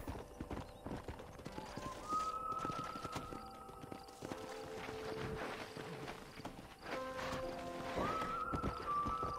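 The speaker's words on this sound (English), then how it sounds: "Cavalo infeliz." Horse hooves clip-clopping in the video game Red Dead Redemption, a steady trotting beat on hard ground mixed with in-game music tones and ambience.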